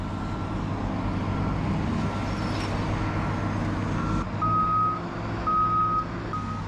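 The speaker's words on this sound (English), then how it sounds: "Now we got a big truck trying to come up here." A big truck reverses at a landfill, its backup alarm sounding steady, evenly spaced beeps over a low diesel engine rumble close by.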